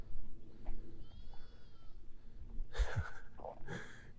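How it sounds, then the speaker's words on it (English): Sheep on a cross-country ramble near Headcorn, with a thin, wavering bleat early and then a couple of louder, rougher bleats close by, over faint outdoor background noise. "we are coming up to the sheep"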